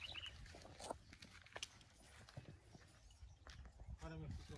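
Hooves clip-clop from a horse being taken and led on a farm, several soft uneven steps under intermittent talk and background noise.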